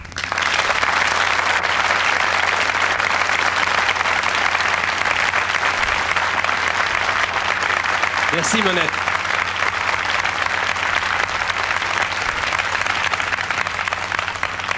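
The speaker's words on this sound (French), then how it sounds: "Je voudrais que vous l'applaudissiez. C'est la maman de Coluche, Monette." A studio audience at a French television tribute show for Coluche applauds his mother Monette, a dense, steady wash of clapping that holds for the whole stretch, with a voice briefly speaking over it partway through.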